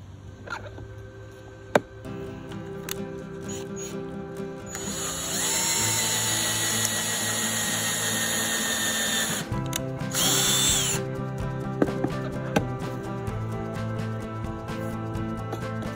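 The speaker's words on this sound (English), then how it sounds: "Let's go ahead and just drill these two real quick." A power drill bores pocket holes into wooden boards held in a Kreg jig. It whines in two bursts, one long and one short, with small clicks and handling sounds before and after.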